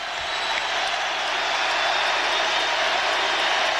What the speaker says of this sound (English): The crowd chanting, Eddie, Eddie.